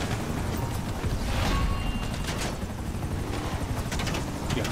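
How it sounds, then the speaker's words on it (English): Helicopter flying in GTA 5 Online during a firefight, a loud, steady rotor roar that fills the whole stretch, with scattered sharp bursts mixed into the dense noise. "Helicopters shooting at my face"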